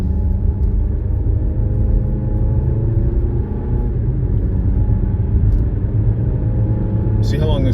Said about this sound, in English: Running cars.